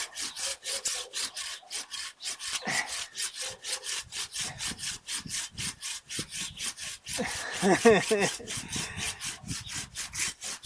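Samurai GKC-300 Japanese garden hand saw cutting through hardwood, a steady run of rhythmic push-pull rasping strokes close by, with a brief burst of speech in the middle.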